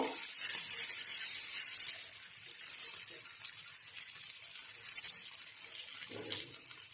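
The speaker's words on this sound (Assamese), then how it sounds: "এয়া আলু ভাজিখিনি এনেদৰে এবাৰ লৰাই দিছোঁ" Potato fry being stirred in a pan, giving a steady soft sizzle with faint scraping and watery hiss throughout, close and moderately quiet, with no talking.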